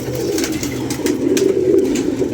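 Pigeons in a loft give a continuous, close, low cooing murmur that rises and falls steadily throughout, with no talk.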